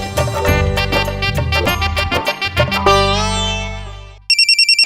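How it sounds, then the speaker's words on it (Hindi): A phone ringtone plays a bright electronic melody over a bass line, then switches to a sharp repeating ring pattern at the end. No one speaks. "फोन की घंटी बज रही है"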